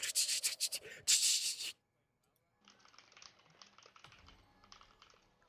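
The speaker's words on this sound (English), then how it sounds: "Listen to that keyboard." Fast clattering keystrokes on a computer keyboard during a World of Warcraft Classic session, a dense loud burst that stops briefly before lighter typing resumes, close to the mic.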